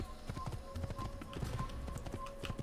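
A horse's hooves clip-clop in a steady trotting rhythm as a warrior monk rides through a crowded street in Assassin's Creed, moderately close, with faint background murmur.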